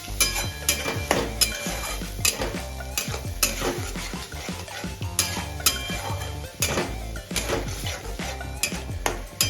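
Grated carrot paste for gajar halwa frying in a pan, stirred vigorously with a metal utensil that scrapes and clanks against the pan in a quick, steady rhythm over a constant loud sizzle.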